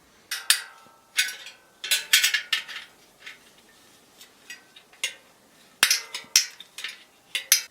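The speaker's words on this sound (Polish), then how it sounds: "Teraz biorę klucz do szprych i za pomocą tego klucza do szprych będę chciał stopniowo po kolei poluzować każdą ze szprych." Metal spoke wrench turning the spokes of a bicycle wheel, loosening each in turn before swapping the rim: sharp, close metallic clinks and pings in irregular bursts, with short quiet gaps and no talking.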